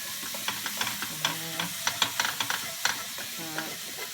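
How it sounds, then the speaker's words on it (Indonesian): Ingredients for mi titi stir-fried in a hot pan, with a steady sizzle broken by repeated scraping and clattering strokes of a spatula, close and fairly loud, no talking. "Ini kita tumis terus ya sampai aromanya tuh udah keluar"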